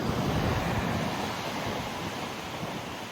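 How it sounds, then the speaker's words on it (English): Sea waves breaking on the rugged northeast England coastline near Dunstanburgh, a continuous roaring wash of surf with wind buffeting the microphone, fairly loud and steady, no voices. "these waves are pretty brutal"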